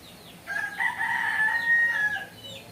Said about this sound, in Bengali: একটা মোরগ আছে, খুব ডাকাডাকি করে